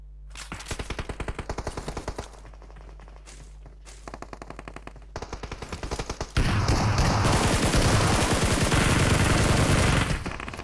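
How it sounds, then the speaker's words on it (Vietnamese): Rapid gunfire in a video game: bursts of automatic weapon fire crackle in quick succession, pausing briefly between volleys, then swell into a dense, continuous barrage of loud shots over the final seconds. "Ở bên kia nó bắn kìa"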